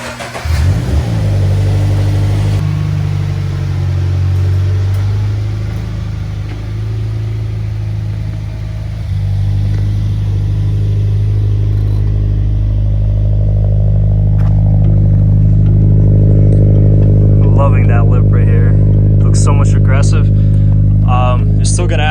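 A widebody Subaru BRZ idles and then pulls out outdoors, its engine droning loud and close with some revving, and someone talks over the sound for much of the time.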